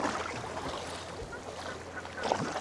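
Ducks quack in short bursts near a kayak off a Scottish island, set against steady wind and lapping water, with a louder call close by toward the end.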